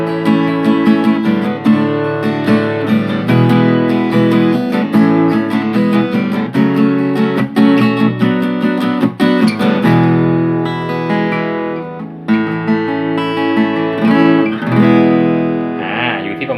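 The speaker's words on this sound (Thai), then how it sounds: "อันนี้คือเสียงกีตาร์เปล่านะ" An unplugged Takamine PT106 acoustic guitar strummed and picked close up, bright chords ringing out steadily with no voices.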